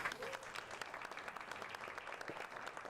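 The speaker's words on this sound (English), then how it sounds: "Everybody give him a round of applause." Audience applause at an evening tech and user-experience meetup, a steady dense patter of many hands clapping at moderate distance, continuous for a few seconds with no talking.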